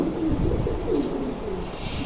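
A pair of exhibition homer pigeons coo in low, rolling, continuous calls, close by and steady, with no talk over them.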